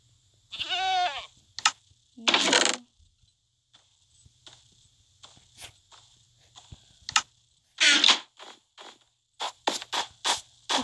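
A Minecraft goat gives a wavering, nasal bleat up close, followed by scattered clicks, short blocky effects and a rapid run of bursts against a quiet ambient background.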